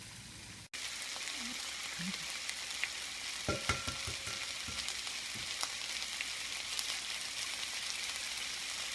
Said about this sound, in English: As our vegetables are cooking